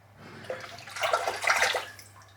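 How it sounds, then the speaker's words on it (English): Water sloshes and splashes for a couple of seconds as a razor is shaken back and forth in it. "Shaking the water and it's crystal clear."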